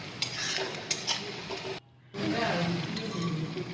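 Marinated meat added to browned onions is stirred in a pan over low heat, with soft scraping and clinks over a gentle sizzle, broken by a short dropout midway.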